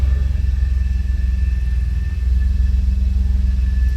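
A Mercedes W114 with a boosted, EFI-swapped M103 engine idles steadily, a loud, even low rumble with a faint high whine running through it.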